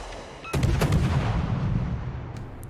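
Warship guns fire a salvo in a naval video game: a sudden loud boom followed by a heavy rolling rumble that slowly fades, with a few sharp reports near the start.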